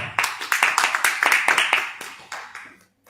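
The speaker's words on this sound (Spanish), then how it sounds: "les pido un aplauso para Fernanda Barbosa" An audience at a book fair thesis session claps for a speaker, with dense, close hand claps starting sharply, holding steady, then thinning out and stopping before a brief quiet.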